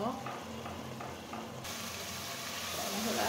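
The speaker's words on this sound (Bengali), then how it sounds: "এখন এটাকে আমি খুব সুন্দর মতো তেলটা ছেড়ে আসা অবধি কষিয়ে নেব, বোনা বোনা করে নেব।" Spice masala frying in oil for a chicken curry, a steady close sizzle with faint stirring scrapes, running continuously and with no talking.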